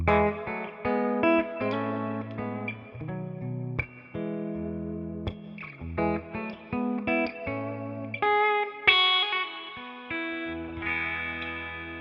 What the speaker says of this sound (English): So let's hear the pickup now, full volume, full tone.